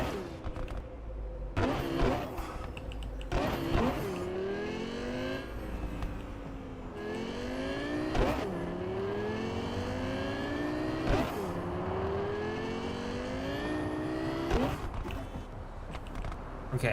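Three cars driving abreast past the player in the video game Cyberpunk, engine whines rising and falling in repeated sweeps with sharp transient clicks between, steady and moderately close throughout.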